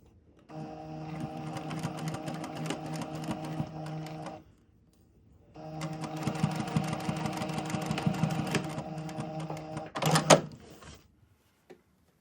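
A sewing machine tacks pleats down along a folded fabric edge in two steady runs of stitching, separated by a short pause, ending with a few clicks and handling noises.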